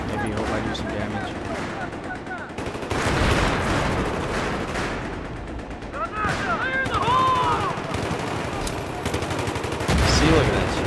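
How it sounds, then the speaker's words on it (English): Dense bursts of automatic gunfire and heavy blasts ring out continuously in Battlefield 3's Metro Station map, loud and close, with voices talking throughout. "I'll just randomly shoot over here."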